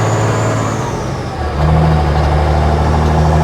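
A 1940 Dodge WC 3500 4x4 truck with a 5.9 engine and straight pipe exhaust rumbles loud and near, dipping briefly before the revs climb into a sustained, throaty drone, with no talk over it.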